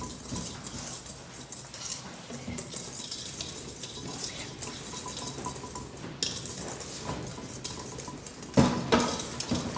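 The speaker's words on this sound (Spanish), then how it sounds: "lo va a mezclar un poquito y lo vuelves a poner en la batidora" Cake batter being mixed by hand in a bowl in a kitchen workshop after the dry ingredients are added: steady scraping and stirring with utensil clinks against the bowl, moderately close, with a few sharper knocks near the end.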